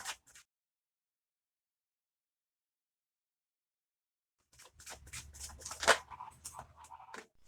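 A deck of tarot cards is shuffled by hand close up: a brief riffle, a long silence, then a few seconds of quick, soft, papery flapping and snapping.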